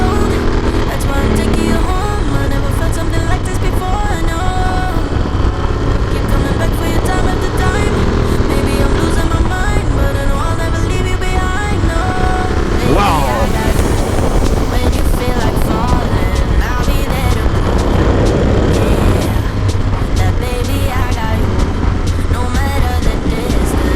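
A rebuilt Moto Guzzi Stelvio motorcycle on a test ride, its engine droning loud and steady throughout under heavy wind rush, with pitch shifts as it accelerates.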